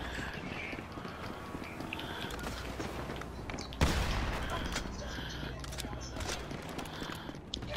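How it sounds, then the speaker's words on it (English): Police gunfire in Grand Theft Auto V: a sharp loud shot lands mid-clip, then a dense rattle of shots and impacts continues under steady game noise and background rumble. "I'm getting shot by the cops."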